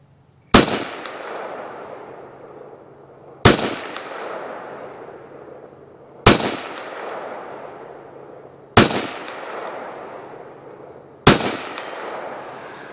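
Five sharp rifle shots from a Walther WMP .22 Magnum firing CCI Mini-Mag rounds at a 100-yard range, evenly spaced about two and a half seconds apart, each a loud crack with a lingering outdoor echo tail.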